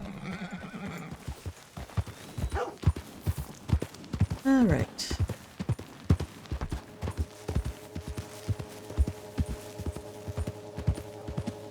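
Steady clip-clop of horse hooves with a brief whinny partway through in Red Dead Redemption 2, over a low hum; a voice speaks briefly.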